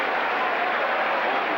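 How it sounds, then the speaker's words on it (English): Steady broadband roar of a rugby league crowd cheering at a 1981 Kiwis versus France test match, a continuous wash of distant massed voices with no break. "The crowd loving it."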